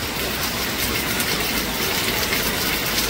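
Rainwater flowing on a village road after heavy rain, a steady broadband rushing wash that stays even and unbroken from start to end.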